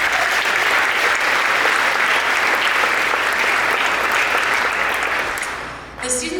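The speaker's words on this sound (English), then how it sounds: "So we're just giving them a round of applause for that." A large school audience applauds students at an upper school awards ceremony, a dense, loud, steady wash of clapping that holds for about five seconds, then thins as a voice begins speaking at the end.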